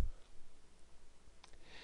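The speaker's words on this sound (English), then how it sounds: "I can right click on it and edit." A single soft computer mouse right-click, faint and brief, over quiet room tone with no talking.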